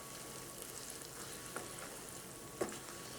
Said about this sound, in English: So I'm going to add all of my dry fruit to this and toast that a little bit as well.